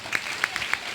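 A church congregation claps hands loudly during a sermon, a handful of sharp, close claps in quick, uneven succession over about a second.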